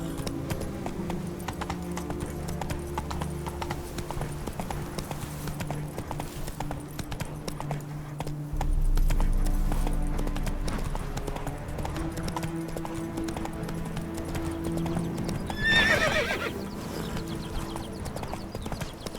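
Horse hooves clip-clop in a steady trotting rhythm in The Witcher III, close and continuous over a game music bed, with a brief swell of louder ambience partway through.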